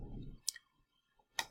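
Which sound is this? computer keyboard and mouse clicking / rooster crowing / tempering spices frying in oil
computer keyboard and mouse clicking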